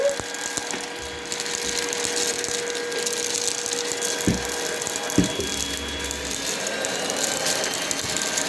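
A Honiture H10 cordless stick vacuum runs on turbo mode, giving a steady, close whirring motor drone with a faint high whine and a couple of brief knocks partway through.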